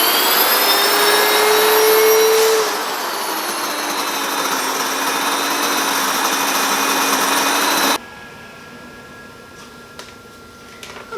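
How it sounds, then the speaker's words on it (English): A Wonder Mill electric grain mill grinding an Ezekiel flour mix of grains and beans, giving a loud, steady high-pitched whine that drops in pitch as the grain feeds through, then winds down abruptly to a quieter hum. "So we're going to run it through the Wonder Mill. Turn it on first."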